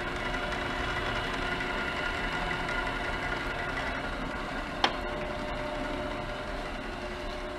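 A South Bend 13 x 40 tool room lathe runs on its flat belt drive with back gear. It gives a steady, low mechanical hum and whir, with one sharp click partway through.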